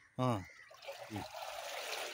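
Water trickles and drains steadily from a handmade Nepali paper mould, a soft continuous splashing that follows a couple of short spoken words.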